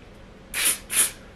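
Two short, sharp bursts of hair spray from an aerosol can during a wig install, loud and close, each lasting about a quarter second with a brief gap between, against a quiet background.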